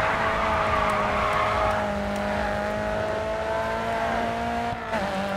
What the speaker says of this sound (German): Lass mich Autorennen fahren.